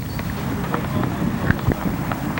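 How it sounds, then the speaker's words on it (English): Steady low rumble of wind buffeting the microphone at a high school baseball game, loud and constant, with a few faint thumps scattered through it. "It's a little windy."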